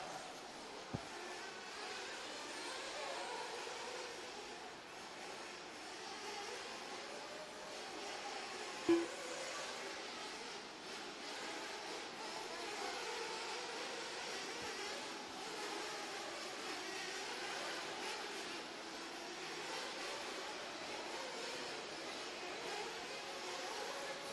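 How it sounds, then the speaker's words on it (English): Sportsman class nitro RC buggies race around a dirt track at Lake Waccamaw, NC, their small engines blending into a continuous distant high whine at fairly low level, with a couple of brief knocks and no voices. "Sportsman Nitro Buggy presented by TZO Tires on the track."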